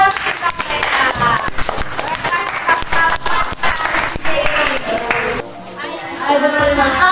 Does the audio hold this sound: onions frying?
no